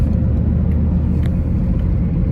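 A Mazdaspeed Protege's engine drones steadily from inside the car while driving after an oxygen sensor replacement, a loud continuous low rumble with road noise.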